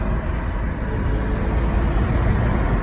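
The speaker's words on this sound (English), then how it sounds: "Downshift." A Lexus IS300 converted to a manual gearbox revs steadily during a downshift, a loud continuous engine and road roar from inside the car with no break or speech.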